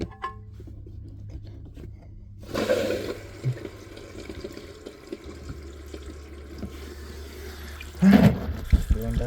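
Toilet tank refilling after the water supply is turned back on, a low hiss and trickle starting quietly and continuing steadily, with a small clunk near the end.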